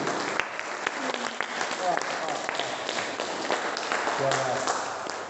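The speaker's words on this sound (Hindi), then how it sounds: "तालियां इसके लिए और मेरे लिए" An audience at a Surya Namaskar campaign event at Maharshi Dayanand University, Rohtak, claps steadily and densely throughout, with faint voices underneath.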